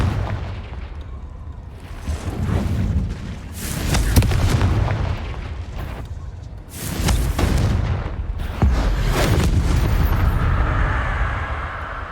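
Blasting-spell explosions from a fantasy wizarding game, several loud booming bursts in a row with rumbling low-end decay between them, close and heavy.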